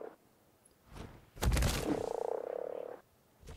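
A frog in Ark Survival Evolved on The Island map gives a loud, drawn-out croak lasting about a second and a half, preceded by a brief thunk, then fades back into quiet game ambience.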